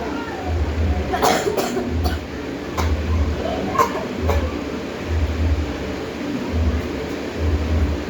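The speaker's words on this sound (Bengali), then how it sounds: "সরি এভরিওয়ান, আমার কাশি হচ্ছিল" A single person coughing several times in rough, evenly spaced bursts, close and fairly loud over a low steady rumble.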